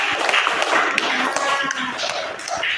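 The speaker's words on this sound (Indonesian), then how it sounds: "tepuk tangan untuk kelompok 1" Schoolchildren in a classroom clap for a presenting group, a brisk scattered patter of hands with a few sharper taps and faint voices underneath.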